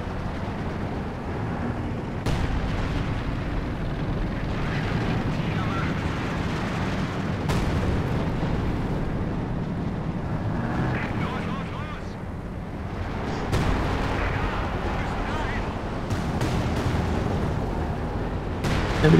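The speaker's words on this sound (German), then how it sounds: "Na scheiß Artillerie die ganze Zeit." Artillery fire in a tank war video game, with a loud, constant rumbling battle din broken by a few heavier booms spaced several seconds apart.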